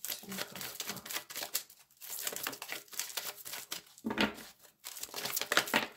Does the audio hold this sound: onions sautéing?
no